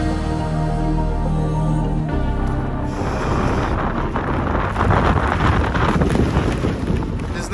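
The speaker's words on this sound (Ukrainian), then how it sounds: "Дуже холодно і вітер дує." Strong wind blowing in Iceland in the cold, a steady loud roar buffeting close against the microphone and growing heavier and rougher after the first few seconds, with no voices.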